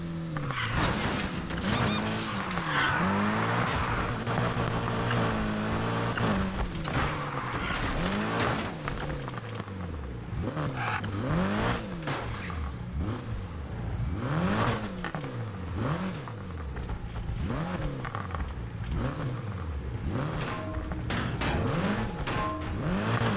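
A Porsche being driven in Need for Speed Heat, its engine revving up and down in repeated sweeping surges, with tire squeal and skidding through fast cornering, loud and continuous.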